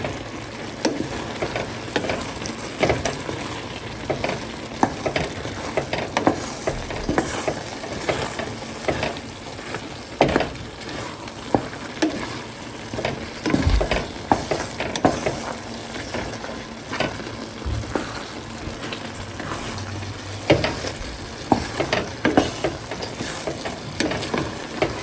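Vegetables sizzle and fry steadily in a pan while a utensil stirs and scrapes them in irregular bursts, close and moderately loud, with no talking.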